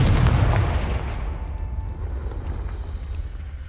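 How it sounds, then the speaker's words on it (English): Confringo explosion spell from Hogwarts Legacy, a single loud booming blast that rumbles and slowly decays over a few seconds, heard alone without talk. "Confringo."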